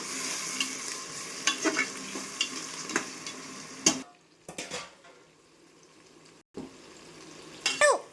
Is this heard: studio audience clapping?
no